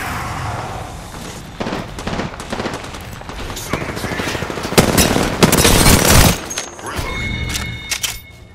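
Rapid automatic gunfire and single shots crack through a firefight in Apex Legends, loud and close, with bursts building to a dense volley near the end over game sound effects.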